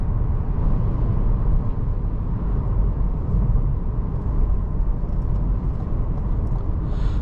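A 2023 Cadillac CT4 Sport accelerates hard in manual mode, its turbocharged engine roaring in a steady, loud, low rumble with road noise filling the cabin, no voices.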